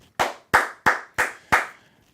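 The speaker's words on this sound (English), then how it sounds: "And I'll clap it up again" Five sharp, evenly spaced hand claps ring out close and loud, roughly one every third of a second, with brief silence after each one and no other sound.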